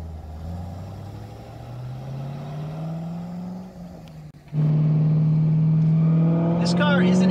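A Corvette with a Borla exhaust drones as it drives, then bursts into a much louder, deep rumbling roar that holds steady up close.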